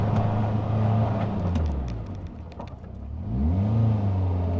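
A Caterham 420R slows from 30 mph: its loud, close engine note sinks as it brakes, then climbs again as it pulls away, with no talking.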